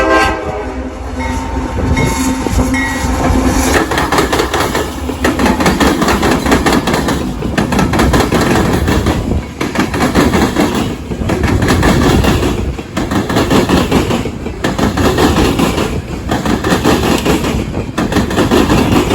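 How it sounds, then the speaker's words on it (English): A heavy loaded coal train led by a CM44AH locomotive rumbles past close by, steady and loud, with rhythmic clanking of wheels over rail joints and a horn sounding early on. "which to our surprise was a loaded coal train"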